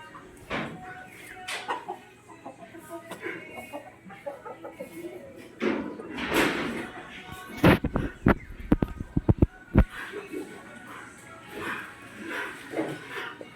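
Chickens cluck repeatedly close by at a chicken coop, with a few louder squawks in the middle, while people talk intermittently in the background.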